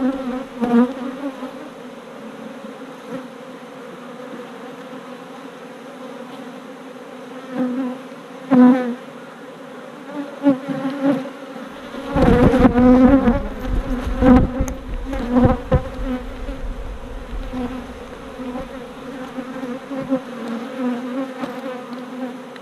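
Honey bees buzz steadily around an open beehive full of honey and pollen, a dense close drone with louder swells as bees pass near, continuing throughout without talk.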